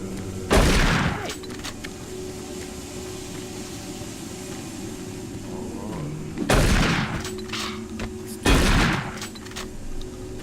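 Shotgun blasts in the first-person shooter Doom 3 BFG Edition, three loud booming shots spaced several seconds apart, each with a short echoing tail over a low rumbling game ambience.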